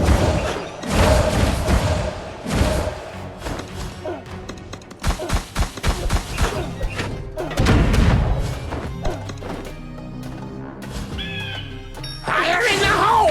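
Bomb blasts and crashing impacts from Kingdom Rush Vengeance erupt in irregular bursts, with thuds and booms layered over game music and voiced character lines.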